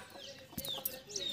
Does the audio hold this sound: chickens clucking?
yes